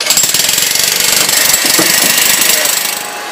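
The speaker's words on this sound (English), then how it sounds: "There's Willie with the jackhammer." A jackhammer rattles in rapid, continuous bursts nearby during geothermal heating work at a historic house, loud and harsh, with faint voices mixed in underneath.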